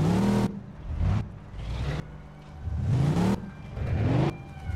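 A car engine in the video game Mafia II revving repeatedly, four or five rising surges separated by short drops, loud and close with no talking over it.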